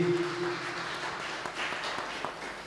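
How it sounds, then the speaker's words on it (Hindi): A congregation at a worship service claps in a steady, even wash of applause that fills the room briefly. "जोरदार तालियां प्रभु की महान उपस्थिति के लिए"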